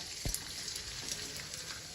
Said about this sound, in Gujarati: આવી રીતે થોડો થોડો ગુંદ તળવાનો